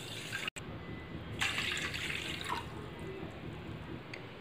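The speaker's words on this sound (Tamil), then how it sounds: "அது கூட 2 கப் தண்ணி ஆட்" Water is poured onto sugar in a pan to make a cool mint drink, giving a steady splashing trickle throughout with a brief break near the start.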